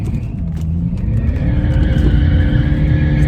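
Diesel turbo car drifting, a loud close engine drone with rising pitch and harsh tire noise, continuous and building over a few seconds with no voices.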